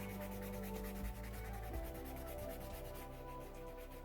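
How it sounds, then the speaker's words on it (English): A putty rubber eraser rubs back and forth across drawing paper in quick, close strokes, a soft scratchy rasp that repeats steadily in a rhythm with no speech. "I'm just going to lighten my lines a little bit by just rubbing across the surface."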